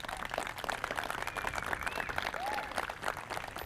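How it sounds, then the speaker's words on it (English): An outdoor audience at an archery demonstration applauds the archers, a steady wash of scattered clapping mixed with crowd noise and a few faint whistles. "round of applause, please,"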